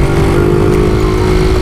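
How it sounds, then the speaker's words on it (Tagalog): Yamaha Mio scooter being ridden, a steady droning engine note with constant wind rumble, loud and close throughout. "At itong Mio muna ang ating gagamitin papuntang shop."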